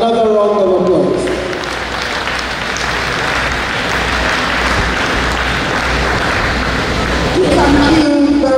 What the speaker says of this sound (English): So thank you for giving my brother another round of applause.